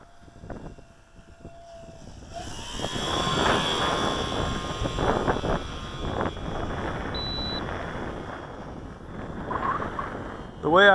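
Wind buffets the microphone at a radio control flying field, a broad rushing roar building after a quiet start and holding steady, mixed with the whine of a small brushless-powered model plane and brief talk.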